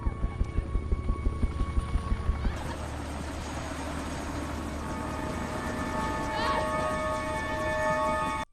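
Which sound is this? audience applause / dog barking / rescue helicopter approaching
rescue helicopter approaching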